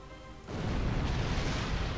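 Torpedo explosions strike a starship hull in the space combat game Star Trek Online, a sudden heavy boom that swells into a sustained, loud, rumbling roar.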